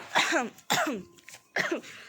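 A person with a bad cold coughs three harsh, throaty times in a row in a rooftop garden, close and loud, with short pauses between them.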